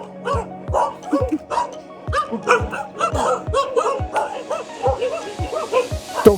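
Several adopted dogs on an Everest climbing expedition bark repeatedly in quick, irregular bursts, loud and close, with some yips and whimpers mixed in and a steady low hum beneath.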